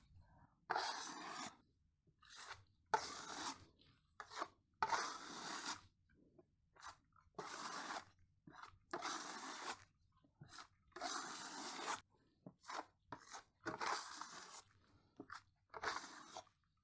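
A trowel lays Venetian plaster onto a wall and scrapes it straight back off in short, rhythmic strokes, about a dozen close, dry scraping bursts separated by brief pauses.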